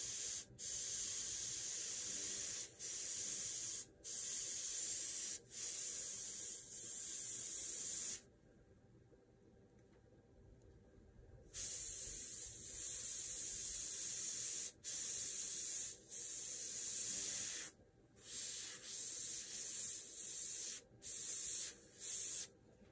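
An airbrush sprays paint while a lionfish is painted in real time. Steady hissing bursts of several seconds each are broken by short gaps and one longer silent pause, close and fairly quiet.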